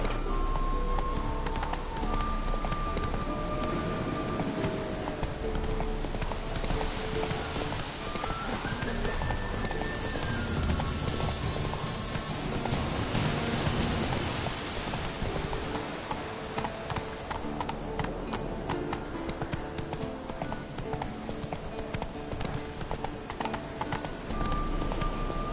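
Roach, Geralt's horse in The Witcher 3, gallops with a fast rolling clatter of hooves, loud and continuous for a long stretch beneath game music and ambient tones, with a voice occasionally speaking.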